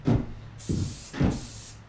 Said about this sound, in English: And my spray paint's not even reaching my board.